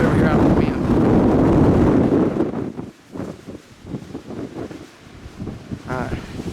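Strong wind buffeting the microphone outdoors in Rocky Mountain National Park, a loud roaring rumble that eases partway through, with someone talking over it.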